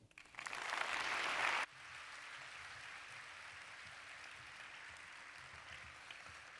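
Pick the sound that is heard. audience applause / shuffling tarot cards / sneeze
audience applause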